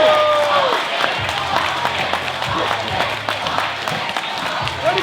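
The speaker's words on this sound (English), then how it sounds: "Listen to that crowd." A crowd at a boxing fight applauds and cheers after the bout in a loud, continuous wash of noise, with voices and some shouting mixed into the clapping.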